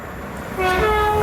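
A train passes through Hatfield station on the East Coast Main Line, a steady rumble swelling halfway through and joined by a long, sustained horn tone near the end.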